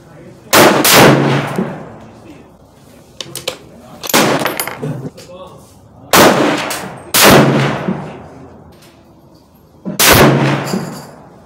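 A Savage Axis II XP hunting rifle fitted with a Bushnell scope fires about five loud, sharp reports, each spaced a couple of seconds apart and trailing off in a rolling outdoor echo.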